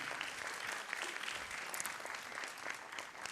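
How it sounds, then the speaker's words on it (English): Audience at a Bharatanatyam arangetram applauds the MC of the event, a steady, even wash of clapping heard from a distance and fairly faint, continuing throughout without letup. "A big thanks of applause to Mr. Krishna Swami for all his efforts as the MC of today's event."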